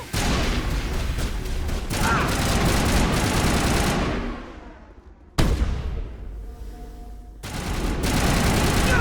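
Sustained rapid gunfire in a Mass Effect firefight, dense overlapping weapon bursts that drop out briefly twice before resuming at full loudness, close and harsh.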